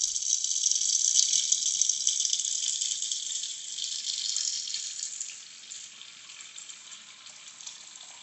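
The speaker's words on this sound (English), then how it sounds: "collect some water in the sink" Tap water runs into a sink with the drain plug pushed in during a P-trap and extension pipe installation, a steady close hiss that gradually softens as the basin fills, with no talking.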